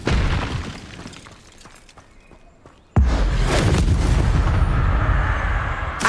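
An Incendio fire spell goes off in a video game with a sudden loud whooshing burst that roars on steadily after a quieter stretch of rumbling background effects.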